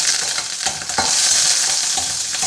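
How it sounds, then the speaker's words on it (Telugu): Dried red chillies and curry leaves sizzle in hot oil as a tempering for tomato chutney, a loud, steady crackling hiss with sharper pops and a few stirring scrapes, no voices. "ఎండుమిరపకాయలు ఒక 4 వేసి చివరిగా కరివేపాకు కొంచెం"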